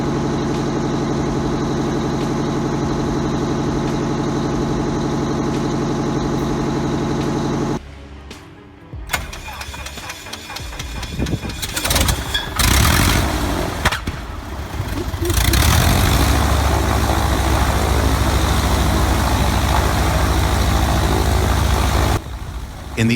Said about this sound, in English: 8V92 comes alive with a low, soulful rumble, and as the twin turbos spool, it becomes music, raw, mechanical music